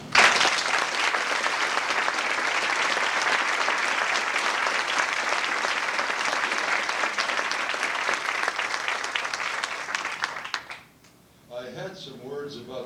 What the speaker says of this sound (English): do deserve our applause tonight